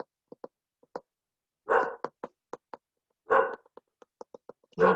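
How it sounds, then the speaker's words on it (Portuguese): A dog barks at a garbage collector in short sharp bursts, several quick yips and two louder, longer barks, close and loud with silence between. "senão o cachorro não vai parar de latir por causa do lixeiro"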